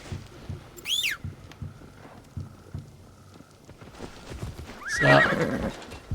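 A horse in a video game neighs in two loud, rising whinnies, one early and a stronger one later, with clip-clop hoofbeats and game ambience between them.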